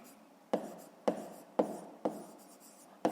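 Chalk or pen taps and strokes on a surface while working a fifth-grade math exercise, five sharp evenly spaced strikes about half a second apart, each followed by a soft scratching trail, quiet and close.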